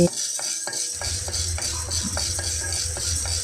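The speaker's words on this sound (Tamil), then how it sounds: "குருமாவுக்கு வந்து வதக்கிட்டு இருக்கேங்க சிக்கன் குருமா தான் வைக்கிறேன்" Chicken kurma ingredients sautéed in a pan, with repeated soft scraping and stirring strokes of a spoon against metal over a steady low sizzle, close up and without talk.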